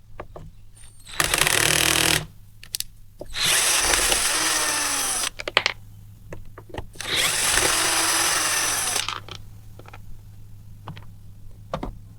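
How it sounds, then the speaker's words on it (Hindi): Cordless drill driver spinning out two bolts on a Stihl MS250 chainsaw during a service: two long, loud whirring bursts with short trigger blips and clicks between them, close up, with no talk. "मेरा जो ड्रिल मशीन है उससे ये दोनों जो बोल्ट हैं इसे खोलना है"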